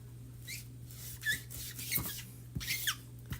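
Chalk squeaks in a few short, thin bursts as it is spread and smushed down on a chalk art surface. The squeaks are quiet and spaced irregularly over a low, steady hum.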